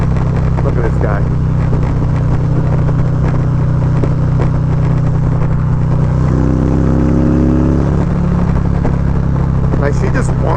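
A stage 4 Harley-Davidson Street Glide anniversary edition motorcycle runs with a loud, continuous engine drone heard while riding, rising briefly in pitch as it revs, with someone talking over it throughout.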